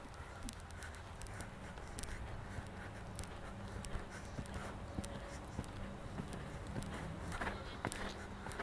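Young horse trotting then walking in a riding arena during a training session, steady rhythmic hoof beats on soft footing, fairly close, with a coach's voice speaking over them.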